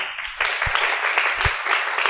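Applause breaks out after a brief quiet start from the audience at a panel on sexuality and dating, settling into steady, dense clapping with a few low thumps underneath.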